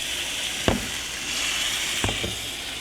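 Sous vide steak sizzling steadily in a hot pan, a continuous loud frying hiss, with two brief thumps as the meat is flipped and pressed down, no talking.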